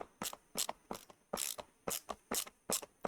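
Vessel ratchet screwdriver clicking through rapid ratcheting strokes, a steady run of sharp, close pawl clicks in short bursts with no talking.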